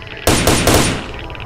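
Three quick, loud gunshots ring out in rapid succession as headshots are fired in S.T.A.L.K.E.R.: Shadow of Chernobyl, each sharp crack trailing into a fading echo over faint ambient background.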